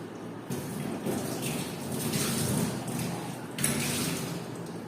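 Running water splashes and rinses as red cabbage extraction glassware is washed, a steady broadband wash with a few louder surges, fairly close and without talk.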